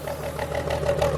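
A long-unused car engine idles steadily at close range, burning off residue in the exhaust, a continuous low rumble with a mid-pitched drone and slight unevenness, no voices.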